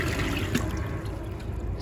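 Water rushes out while a Rheem Claymore water heater is being flushed, a steady, close hiss and gurgle of flowing liquid without voices.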